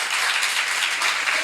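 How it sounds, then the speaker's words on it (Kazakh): An audience applauds at a Karakalpak stand-up comedy show, producing a dense, even burst of clapping that fills the whole brief moment. "Бір қол шапалақ ұрып жіберейік."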